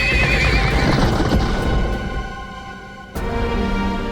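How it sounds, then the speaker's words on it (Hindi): A horse neighs loudly and close up with a long wavering whinny, then its hooves clop against a rumbling background, and the noise rises again abruptly after a short sharp burst. "घोड़े तैयार हैं।"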